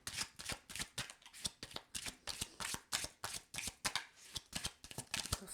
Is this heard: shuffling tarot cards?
yes